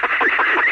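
Duck quacking in a rapid run of loud, close, nasal quacks over less than a second, heard alone.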